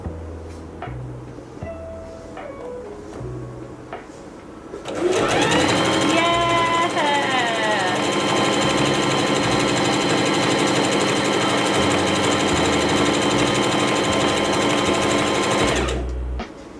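A domestic sewing machine set to a zigzag stitch, silent at first with faint clicks and handling, then running loudly and steadily for about eleven seconds before stopping abruptly.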